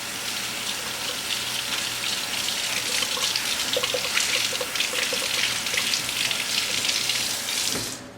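Running tap water rinsing off a part from a Traxxas nitro RC truck during after-run maintenance, a steady close splashing gush that lasts throughout and stops at the end.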